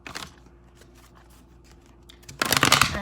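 Tarot cards being shuffled: faint soft riffles and taps, then a loud, close, sustained riffling burst near the end.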